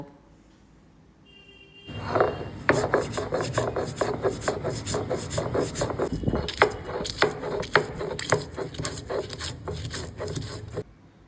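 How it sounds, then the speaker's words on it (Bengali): Poppy seeds and green chillies ground on a flat Bengali grinding stone (shil-pata): close, steady rasping strokes of stone on stone in a regular rhythm for about nine seconds, with no talking. "এটাতে শিলপাটাতে দুটো কাঁচা লঙ্কা দিয়ে আমি বেটে নেব"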